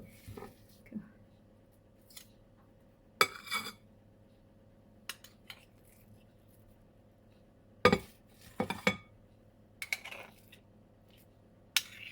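A spoon or spatula scoops muffin batter into a tray, giving scattered metallic clinks, taps and soft scrapes in short bursts separated by quiet gaps.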